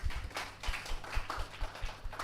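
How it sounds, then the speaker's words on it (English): An audience at a Ghana Digital & Innovation Week launch event claps for panelists, a brief, fairly faint patter of hand claps with uneven rhythm. "A round of applause for our panelists."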